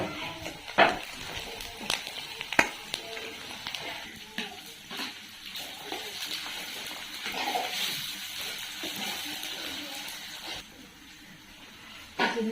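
Finely chopped onions sizzle in oil in a pan while dried prawns and gongura are being cooked. A soft, steady frying hiss runs throughout, broken by occasional clinks and stirring scrapes.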